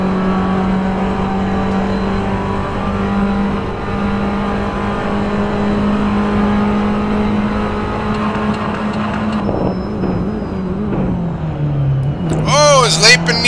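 Race cars circling a track in an inter-league online race, a steady engine drone with shifting pitch that dips as the cars slow into a corner near the end, under commentators talking.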